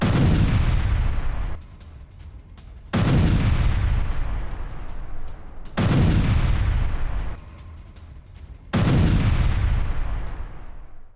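IDF mortar fire: four loud, heavy booms about three seconds apart, each with a long rumbling tail that fades before the next blast.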